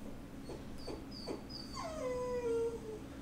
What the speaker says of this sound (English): I don't know if you guys can hear my dog crying in the background